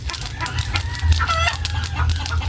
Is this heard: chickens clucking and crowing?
yes